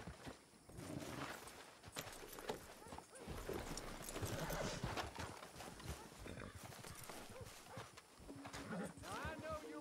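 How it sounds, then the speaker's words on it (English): In the Red Dead Redemption 2 video game, horse hooves clip-clop in a steady walking rhythm and a horse neighs, all set against a busy background of other game sounds. "Get on your horse."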